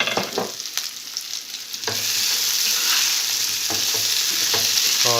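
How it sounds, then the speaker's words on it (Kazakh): Food with black pepper sizzles in a hot pan while being stirred, with a few scraping strokes at first, then a loud, steady frying hiss that stays up close and continuous. "Енді бір араластырып жібереміз."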